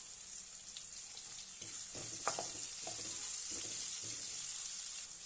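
Green chilies frying in a pan for Rayalaseema-style uggani, a steady, quiet hiss with soft crackles and a few stirring scrapes, and no talking over it.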